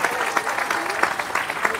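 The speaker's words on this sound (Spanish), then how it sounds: "Aplauso, pues, aplauso." An audience at a religious debate claps in a brief burst of dense, close applause, with a voice heard beneath it.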